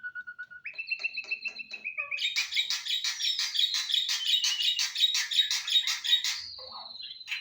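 A pet Javan pied starling sings up close. Clear whistled notes open the song, then it breaks into a long, loud run of rapid, repeated chattering phrases that ends in a sustained whistle.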